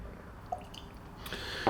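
Water dripped into a glass of Kilchoman Sanaig Islay single malt whisky: a few soft, close drips and small splashes, with a louder pour-like splash near the end, over a quiet room hum.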